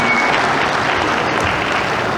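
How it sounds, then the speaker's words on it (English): Sustained, dense audience applause at a regional development forum as a guest leaves the stage, loud and steady throughout with no talk over it. "Let's give him a round of applause as he makes his way off the stage."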